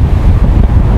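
Loud, blustery wind gusts on a beach buffet the microphone in a continuous low roar, with surf faintly mixed in beneath the gusts.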